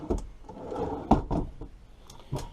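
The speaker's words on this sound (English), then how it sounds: "There's a drawer there underneath the stove." A wooden kitchen drawer under the stove in an RV kitchen slides and knocks shut, with a few short thuds and scrapes close by at moderate loudness, no speech.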